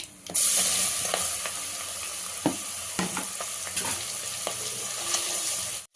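Ingredients for biryani fry in a pan with a bright, continuous sizzle, punctuated by irregular spatula stirs and scrapes close by before it cuts off near the end.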